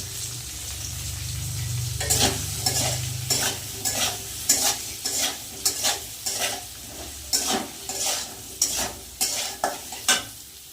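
Spices with turmeric, chili powder and salt, along with washed dalia, fry and get stirred in a pan, a steady sizzle under repeated scraping stirs, close and fairly loud, with no talk.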